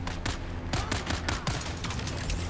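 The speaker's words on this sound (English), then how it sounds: "That's gunfire." Rapid bursts of gunfire ring out as NPCs fight in the video game Dune: Awakening, a string of sharp, closely spaced shots over a low background rumble, loud and continuous with no talking.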